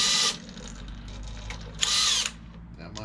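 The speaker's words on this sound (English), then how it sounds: "We're going to crack the harmo bolt next" A socket wrench cracks loose the 15/16 harmonic balancer bolt on a Ford 351 Cleveland engine, giving two short bursts of loud, high-pitched power-tool whirring separated by a quieter lull.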